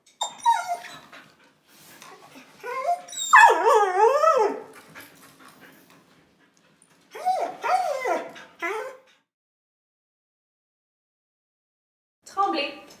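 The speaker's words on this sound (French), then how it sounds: "Un chien qui vocalise va émettre des hurlements, des gémissements, des grognements." A stressed dog vocalizing in bursts of whining and howling with warbling pitch, separated by pauses, fairly close and loud, with low growly undertones.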